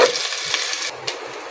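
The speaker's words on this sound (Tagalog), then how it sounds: "Lagay ko na rin yung bawang nila." Garlic frying in a pan, a steady bright hiss of sizzling oil that holds through the whole moment, with a faint stir or clink briefly rising near the end.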